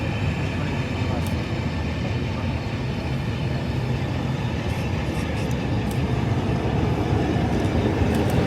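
A train pulls away with a steady, dense rumble and rolling wheel noise, loud and continuous throughout without pauses.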